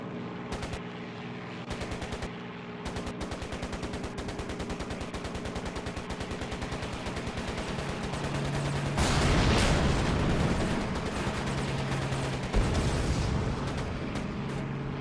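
Rapid aircraft machine-gun fire in the WWII air combat game Air Conflicts Secret Wars, set over Tobruk, a dense continuous rattle of shots over steady engine drone, louder bursts toward the end.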